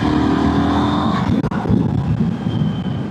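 A KTM 990 Duke R motorcycle engine pulls hard while overtaking on a busy road, a loud continuous roar with a brief cut around a quick gearshift, then droning on under heavy wind rush.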